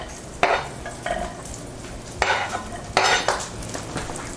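Chopped onions are scraped from a board into oil heating in a pan for a burger sauce. Several separate bursts of scraping and sliding sound out over a faint background hiss, followed by light clinks, and no voices are heard.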